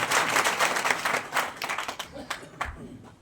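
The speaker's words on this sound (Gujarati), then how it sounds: "એમને આપણે સૌ એક વખત તાળીઓના ગડગડાટથી વધાવી લઈએ" Applause from a crowd at a community gathering on wedding customs, a dense burst of clapping that thins and trails off over a few seconds, heard alone without talk.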